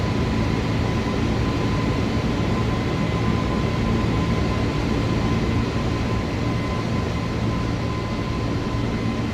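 Steady, loud broadband roar of an iniBuilds A320neo's engines at climb thrust in Microsoft Flight Simulator, a continuous dense rumble with a faint steady tone running through it, unbroken and close throughout.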